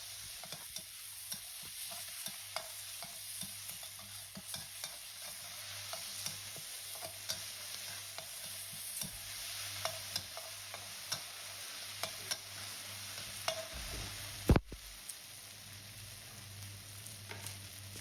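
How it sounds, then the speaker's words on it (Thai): Chili and garlic stir-frying in a pan for a mussel and basil dish, a continuous close sizzle with frequent scraping clicks of a spatula and one sharp knock near the end. "พริกกระเทียมครับ ผัดให้หอมให้ชุนครับผม"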